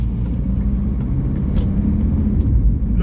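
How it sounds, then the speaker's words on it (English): A VW T4 van drives along after rear brake work and suspension lowering, its engine and road rumble steady and low throughout, a continuous close cabin drone with no voices. "Van seems to be driving fine."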